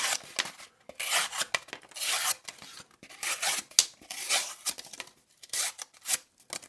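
A flat grind knife slices through single wall cardboard in quick, rasping strokes, a series of close, scratchy cuts with brief pauses between them.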